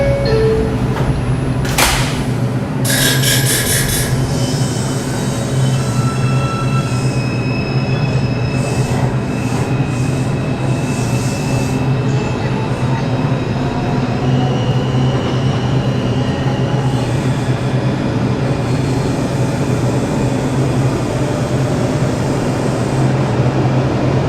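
An R142 subway car on a Manhattan-bound 5 train in New York City rolls along with a steady loud rumble and rattle, with brief high wheel squeals and clatter early on, heard from inside.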